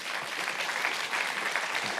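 Steady, dense applause from an audience fills the room as speakers leave the stage after an evening talk, with no break across the short stretch.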